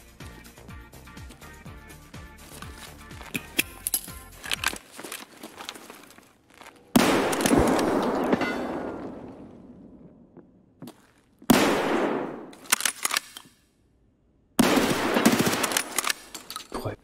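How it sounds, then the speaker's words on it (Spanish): Rapid bursts of video game gunfire crackle through a looting match in the Labs map, several loud volleys with sharp onsets and decaying tails, separated by short pauses and near-silence. "no sé cuántos tiros le voy pegando ya"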